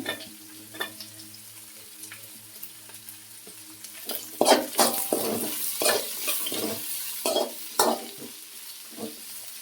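Carrot and green chillies fry in a pan with a soft sizzle, broken by scraping stirs that grow louder and more frequent partway through, a batch of vegetables being cooked for vermicelli upma.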